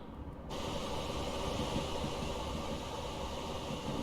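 Train passing in the Train Simulator Classic video game on the Dundee to Edinburgh line, a steady moderately loud rolling rumble with a flat noisy wash that sets in after half a second and holds, no talk.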